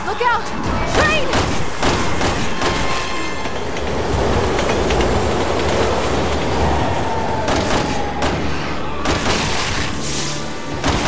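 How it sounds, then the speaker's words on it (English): Train rushing past in the video game Resident Evil 6, a loud continuous rumble with wheel squeal and clatter throughout, mixed with booming game effects. "Look out! Train!"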